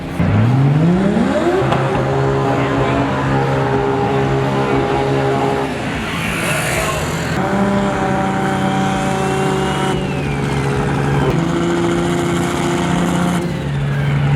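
A loud 2JZ-engined drag race car revs hard and launches, roaring continuously at high volume with rising and shifting pitches as it accelerates away.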